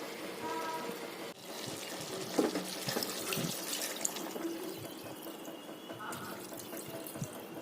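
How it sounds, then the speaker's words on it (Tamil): Water running steadily, poured into a pan of duck curry, with splashing and trickling throughout, fairly close. "தேவையான அளவு தண்ணி ஊற்றிக்கோங்க."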